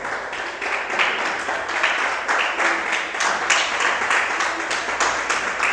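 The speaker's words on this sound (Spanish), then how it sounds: "denle un aplauso al Señor, hermano." A church congregation claps during a sermon, a dense, steady round of many hands with a slightly rhythmic pulse, moderately loud and sustained without talk.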